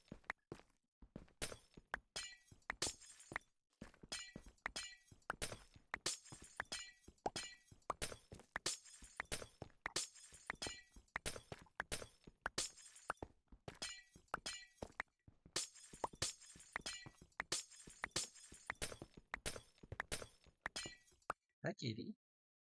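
Rapid run of glass blocks being broken in Minecraft, dozens of sharp crisp shattering clicks in quick bursts with short gaps, close and fairly loud, continuing steadily throughout with a brief pause near the end.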